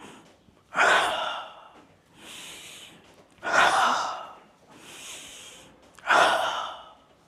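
Forceful breaths during chi gong practice come in a rhythmic cycle: three loud, sharp exhalations spaced about two and a half seconds apart, each followed by a softer, drawn-in breath, close to the listener.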